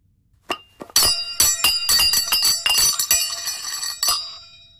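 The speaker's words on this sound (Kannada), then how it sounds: "ಜಾಗಟೆ." A brass gong is struck in a quick series of bright metallic hits, each with a ringing, shimmering tail; the strikes come irregularly and overlap into a sustained clangour before fading at the end.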